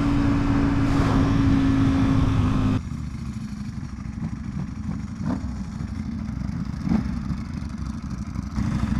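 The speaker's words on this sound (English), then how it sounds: "Such a rowdy bike." A V4R sport motorcycle rides past, a loud engine drone that drops abruptly partway through to a rougher, quieter running note with scattered clatter and brief pops, outdoors and fairly close.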